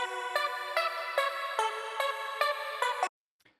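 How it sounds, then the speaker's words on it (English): Bright synth chord built in Serum with heavy unison, the iconic chorus lead of acid trance, repeats in even rhythmic stabs for about three seconds, then cuts off abruptly to near silence. "The first sound of the synth group is that iconic chorus sound."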